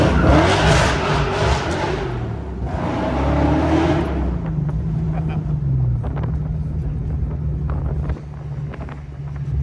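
A supercharged 1993 Foxbody Mustang 5.0 roars hard under heavy wind buffeting for several seconds, then its revs drop away to a lower steady drone, with voices talking underneath.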